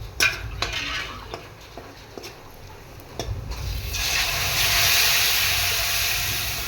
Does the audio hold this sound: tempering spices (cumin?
yes